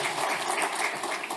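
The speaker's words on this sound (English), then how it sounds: "can we give a round of applause to Mike as well" A conference audience gives a short burst of applause, a dense patter of many hands clapping at once that is fairly quiet.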